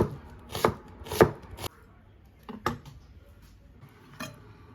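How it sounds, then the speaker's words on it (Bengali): A knife chops green chilies finely on a board for a mashed bharta: a few sharp, close cuts, then softer scattered taps. "মরিচটাকেও কুচি কুচি করে কেটে নিই"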